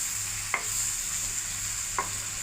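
Nichla fish frying in a pan, a constant close sizzle with two brief clinks of a spatula or utensil against the pan, no voices.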